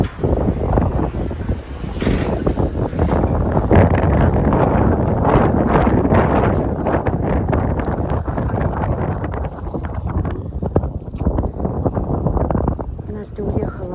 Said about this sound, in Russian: ну ветер совсем сдувает